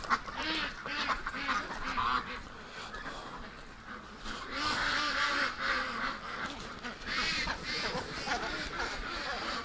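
Several ducks quack repeatedly in a lively, overlapping chorus outdoors, fairly close and continuous throughout.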